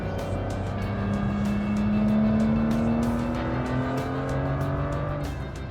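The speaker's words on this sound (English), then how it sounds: "This car's running really nicely now with new computers in it." Aston Martin Vanquish under way, its engine note droning steadily with a slowly rising harmonic pitch as it accelerates through a gear, loud and close with road and wind noise beneath, no talking.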